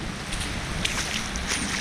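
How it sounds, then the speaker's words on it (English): Running floodwater rushing across a yard after torrential rain, a steady broadband roar with no breaks, close and loud, with gusty wind noise on the microphone. "and this is running water"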